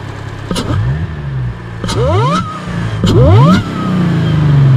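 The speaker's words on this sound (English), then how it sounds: "I did actually say that we'd listen to the supercharger, so listen to this" A supercharged Audi S4 with a modified air intake and airbox revs repeatedly, three sharp rising blips whose high whine climbs with each rev before falling back to a low idle.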